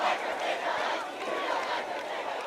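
High school students cheering and shouting in the stands at a football game, a rowdy crowd roar that stays loud and steady throughout.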